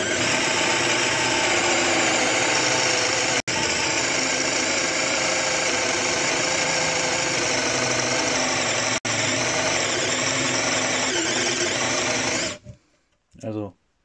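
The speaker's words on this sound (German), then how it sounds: "Ich werde jetzt hier mal im zweiten Gang auf Bohrstufe mit 45 mm mich mal versuchen." A Parkside PBSA 12 D4 cordless drill in second gear bores a 45 mm hole, a loud continuous motor whine with a rough grinding undertone, two brief dropouts, then it stops near the end with a few faint clicks.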